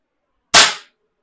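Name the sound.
0.177 caliber air rifle being fired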